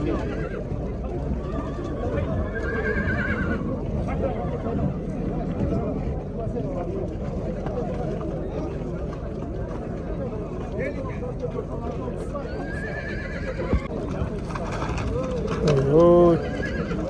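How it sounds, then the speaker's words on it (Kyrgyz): Young foals whinny and neigh several times at a busy livestock bazaar in Jalal-Abad, their calls rising over a constant crowd murmur and voices talking nearby, with a louder neigh near the end. "Кичинекей кулундар экен"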